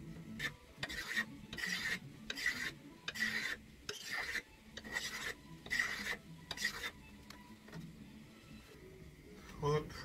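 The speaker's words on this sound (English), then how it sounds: "I'm pretty much finished planing this. I'm just doing the last little bit." A hand plane shaves wood on a W.E. Hill & Sons violin in close, rhythmic rasping strokes, roughly a dozen in quick succession, with a softer pause and a voice speaking briefly near the end.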